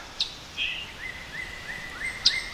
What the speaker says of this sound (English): But the birds are really singing.